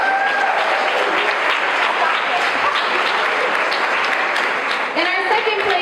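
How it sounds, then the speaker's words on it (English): Sustained audience applause for the winners at a fitness challenge finale, dense and steady for several seconds with a brief dip near the end and faint voices mixed in. "Let's give them another round of applause."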